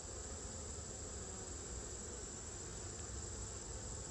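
Honeybees buzzing around an opened beehive, a dense, even hum that holds steady and fairly quiet from start to finish with no talking.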